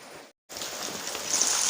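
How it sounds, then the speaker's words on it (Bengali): Steady rain hissing close by after a brief cut to silence, a continuous wash of drops that grows slightly louder. "তোমরা শুনতেই পাচ্ছ বৃষ্টির আওয়াজ"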